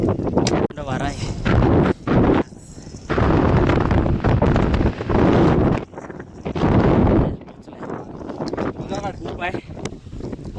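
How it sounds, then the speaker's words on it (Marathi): Strong wind on a hill fort trek batters the microphone in loud, booming gusts that come and go in bursts, with short quieter gaps between them. "वारा है."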